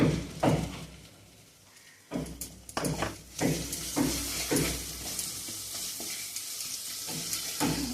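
Cashew and melon seed paste sizzles loudly as it is stirred in a hot pan while a soybean kofta dish is cooked, with steady frying hiss and repeated scraping strokes.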